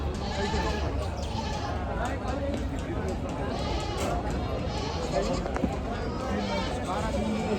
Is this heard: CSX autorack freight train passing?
no